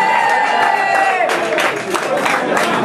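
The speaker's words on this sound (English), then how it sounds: "Please give him a big hand." An audience at a concert applauds and cheers loudly as a guest performer is welcomed on stage with a band, steady clapping swelling under a voice.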